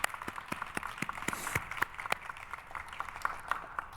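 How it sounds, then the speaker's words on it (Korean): A church congregation applauds a vocal quartet during a Sunday worship service, with steady rapid handclaps from a modest crowd, fairly close and continuous for the whole stretch, with sharper individual claps standing out. "오늘 사중창 박수."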